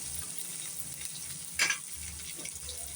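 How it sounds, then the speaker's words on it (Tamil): Onions sizzle steadily in a hot pan, with a spatula scraping and stirring once partway through. "இது எல்லாத்தையும் போட்டு நல்லா வதக்கிடணும் வெங்காயம் நல்லா வதங்கணும்"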